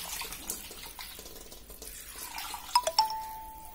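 Water is poured and runs while pork is washed for a Tamil pork kulambu, a soft trickle that ends in a few sharp drips and splashes near the close.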